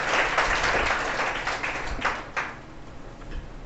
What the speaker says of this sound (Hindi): चलिए ताली बजा दीजिए, अब स्टार्ट प्रोग्राम होगा आपका।